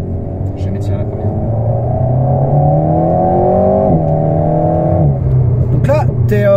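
Engine of an Alpine sports car pulling hard in first gear, a loud steady rising drone with harmonic sweeps that dips at a gear change near the end, under a voice speaking briefly at the close.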